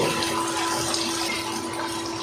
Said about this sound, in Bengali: তো গোসটা কষানো হয়ে গেছে তো এখন আমরা পানি দিয়ে দেব